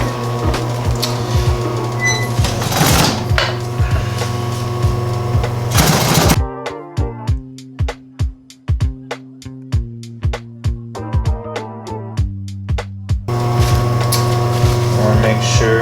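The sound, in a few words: sewing machine stitching leather duffle bag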